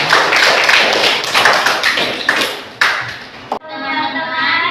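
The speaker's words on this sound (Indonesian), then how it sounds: "Tepuk tangan dulu untuk kelompok mereka." A classroom group claps for fellow students after their presentation, a dense burst of scattered handclaps that dies away, followed by a voice speaking near the end.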